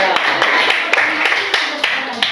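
Scattered, uneven claps from a small audience after a classroom presentation at a computational-thinking training session, sharp individual hits over a murmur of voices and room noise.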